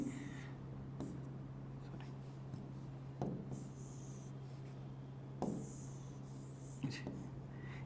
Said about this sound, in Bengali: আমি এটা একটু নিচের দিকে লিখি